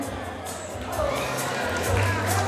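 Wedding henna-night crowd in a hall, a dense roar of many guests cheering and clapping, steady and loud throughout with a slight swell toward the end.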